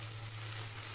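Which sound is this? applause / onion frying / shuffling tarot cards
onion frying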